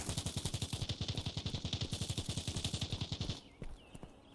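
Rapid automatic video game gunfire from the Sleuth rattles in a fast, even burst for about three seconds, then stops, leaving faint background noise.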